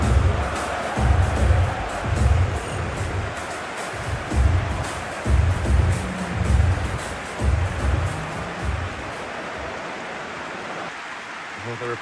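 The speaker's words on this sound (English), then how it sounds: "A capacity crowd here." Stadium crowd in the football video game PES before a World Cup semi-final: a dense, continuous roar of a capacity crowd with low rhythmic chanting swells, steady and loud throughout, with no words spoken.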